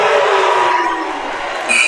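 Crowd roaring at a Vineland vs Millville high school boys basketball game near the end of the third quarter, a loud sustained cheer that swells and then tapers off.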